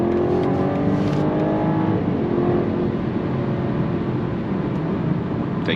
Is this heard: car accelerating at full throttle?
yes